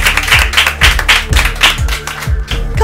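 An audience claps loudly for a young primary-school contestant on a children's quiz game show, the clapping falling into a regular pulsing rhythm that lasts throughout.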